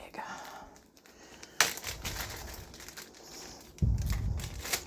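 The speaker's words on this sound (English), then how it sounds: "I'm going to put the other half of the onion in a plastic bag" A plastic bag crinkles and rustles in a couple of short bursts as half an onion is packed away in a home kitchen, with soft handling noise in between.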